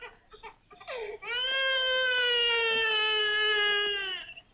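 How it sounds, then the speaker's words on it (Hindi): A baby cries in a long, loud, sustained wail after a few short whimpering sobs, heard close and clear with no talking over it. "बच्चे के रोने की आवाज।"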